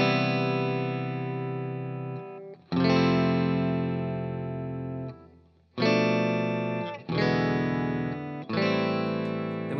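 An electric guitar plays a chord section from a song: a handful of strummed chords, each left ringing for a second or two before the next, close and moderately loud with no voices.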